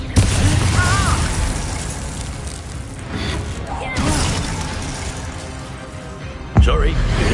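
Spell explosions from the Hogwarts Legacy video game, including Confringo blasts, sound as repeated booming bursts and pops over a steady rumbling bed, with a sharp loud blast near the end, mixed with voices shouting.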